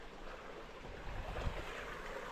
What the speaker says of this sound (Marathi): पाणी आहे ना वरती चढतोय ते बघा, एकदम फास्ट चढतोय. आवाज पण येते जोरात जोरात.